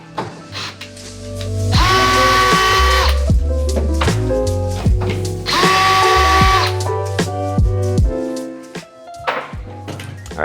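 A power tool, likely an impact or drill driving a socket on the tail light bolts of a Jeep Gladiator JT, whirs in two loud bursts with clicks and handling knocks between them.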